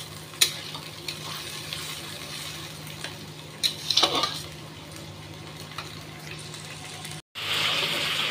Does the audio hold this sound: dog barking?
no